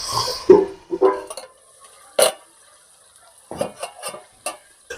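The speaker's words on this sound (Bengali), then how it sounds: "এবারে এটাকে আস্তে আস্তে নেড়ে নেড়ে সুন্দর করে কষিয়ে নিতে হবে" Country chicken curry stirred and sautéed in a pan, heard as separate scraping and clattering stirs with quiet gaps between, close and fairly loud, with no talking.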